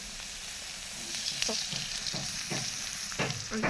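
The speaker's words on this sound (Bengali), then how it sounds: "তো দিয়ে দিলাম পেঁয়াজ এখন দিয়ে দেব সরিষার তেল" Onion frying in mustard oil in a pan, a steady loud sizzle running throughout with a few sharper scrapes of a spatula stirring at intervals.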